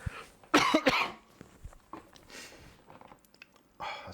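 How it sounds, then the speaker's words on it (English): A person coughs several times in quick loud bursts near the microphone, with a short pause between the first burst and a later one, in an indoor live chat setting. "I got a cough."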